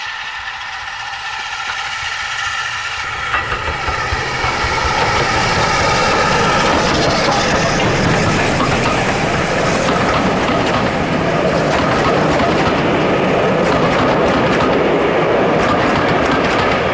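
Locomotive 73129 on the Severn Valley Railway rumbles past close by with a passenger train, building from a low approach into a loud, steady roar with rhythmic clatter of wheels on the rails.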